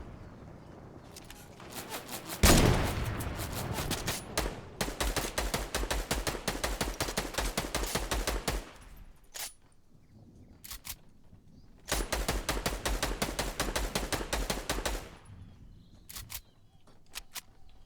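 Rapid bursts of video game gunfire crackle in long, dense volleys, pausing briefly before another sustained burst, loud and close with no talk over them.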